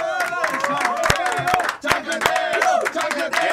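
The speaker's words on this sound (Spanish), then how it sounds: "Aplausos chancleteros para todas y todos" Studio audience applause for a Puerto Rican political comedy talk show: a dense run of claps mixed with cheering voices, steady and fairly loud throughout, with a brief dip partway through.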